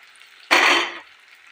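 Flattened rice (chira) pitha batter hits a hot wok with a sudden loud hiss that holds for about half a second, then fades into a quieter sizzle.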